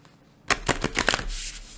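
A deck of tarot cards being shuffled close up, a quick burst of riffling card flicks after a short quiet moment, then a softer settling rustle.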